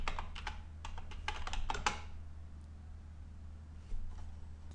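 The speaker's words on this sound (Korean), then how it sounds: "패스워드만 입력해, 입력하시면 됩니다" Quick keystrokes on a computer keyboard enter a password for a PuTTY SSH login. About a dozen close, crisp taps come in a rapid burst, followed by near silence with one faint click.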